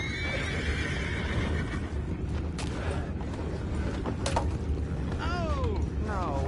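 Horses whinny and neigh in a Red Dead Redemption 2 game scene, a couple of rising calls near the end, over a steady dense rumbling background with creaks and clattering mechanisms.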